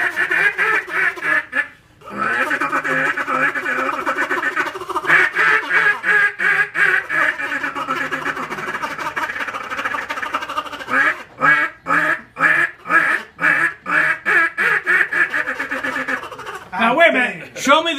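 A man imitates duck quacks with his mouth and open hand, no call used, producing a loud, rapid series of nasal quacks in bursts, with a pause and then a long run of quick, chopped quacks.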